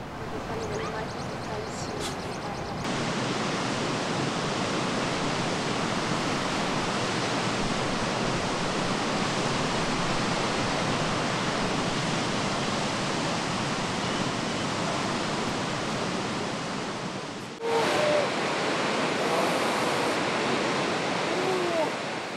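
The Laja waterfall, on a river fed from the Andes in central Chile, roars as a steady, dense rush of falling water throughout, briefly broken near the end.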